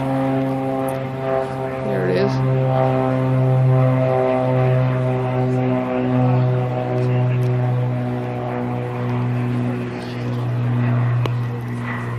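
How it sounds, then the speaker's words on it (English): Small propeller plane taking off near the lodge at Talkeetna, Alaska, a loud, steady droning engine hum with a strong even pitch throughout, while people speak briefly over it. "There's a plane, little plane taking off."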